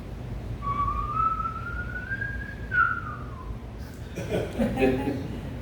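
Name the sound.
voice imitating another kokila bird song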